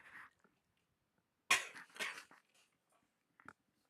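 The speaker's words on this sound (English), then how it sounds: "Man, I've been coughing up a lot today." A man coughs: a short cough near the start, then a loud close pair of harsh coughs, and a faint final one, with quiet gaps between.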